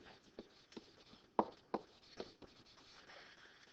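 Students writing on paper in a classroom, faint scattered pen scratches and taps at an irregular rhythm, quiet and close, with no talk over them.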